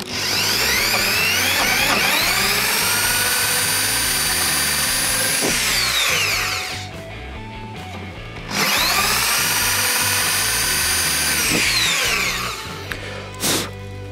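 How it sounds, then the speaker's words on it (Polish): An electric drill bores a hole for an M6 thread tap during a repair of a stripped thread in a car engine. Two long, loud whining runs, each ramping up and winding down, with a pause between them and no talk. "bierzemy z tego zestawu wiertło i wiercimy otwór pod gwintownik"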